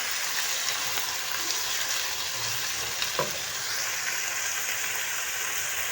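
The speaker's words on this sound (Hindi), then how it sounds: "अब इसमें हम टमाटर डाल देंगे और टमाटर को फ्राई करेंगे" Chopped tomatoes fry in a pan for a stuffed brinjal masala, giving a steady, close sizzle throughout with a light scrape of stirring partway through and no talking.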